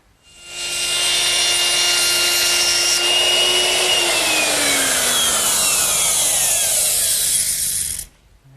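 A router cuts a rabbet along a wooden countertop backsplash for a Shaker washstand, a loud steady high-pitched whine that runs for about seven seconds, its pitch dropping partway through as the bit bites into the wood.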